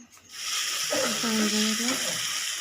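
Spices and oil are sautéed in a pan for a fig and potato curry, giving a loud, continuous close-up sizzle and hiss. A voice briefly sounds over it partway through.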